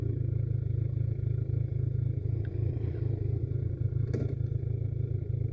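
A V1000R motorcycle engine idling as it warms up, a steady deep low rumble with rapid regular firing pulses, close and continuous, with a faint clatter partway through.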